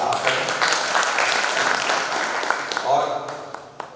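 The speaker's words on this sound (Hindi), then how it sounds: "एक बार मेरे अनुरोध पर उनका सम्मान तालियों से आप करें" Audience applause at a Hindi kavi sammelan poetry gathering in Ujjain, a broad steady patter of clapping from a seated crowd that thins out toward the end, with a voice faintly audible underneath.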